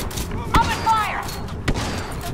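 Troopers open fire in Star Wars Battlefront II, with sharp blaster shots cracking at intervals over a steady battle din while a voice talks.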